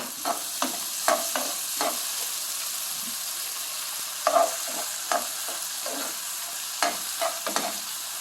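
Tomato and green peas sauté in a pan for a cauliflower and pea stir-fry, with a steady close sizzle and frying hiss. A spoon scrapes and stirs through it in irregular clacks.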